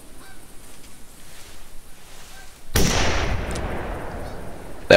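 Geese in theHunter take off together during a wild boar hunt, giving a sudden loud burst of rushing wingbeats and faint honks after a quiet stretch, sustained until the clip ends.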